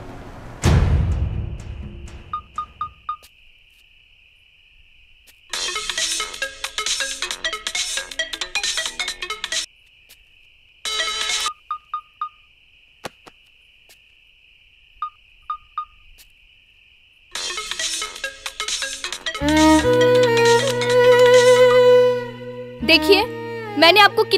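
A phone ringtone plays in repeated bursts with pauses between them, fairly loud, followed by a louder stretch of melodic music near the end.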